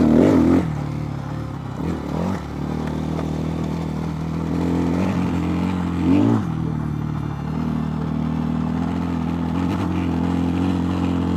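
A Templar M four-stroke motorcycle's exhaust during a ride, a steady low engine drone with a few throttle swells and rumbling surges, close and continuous with wind noise and no speech.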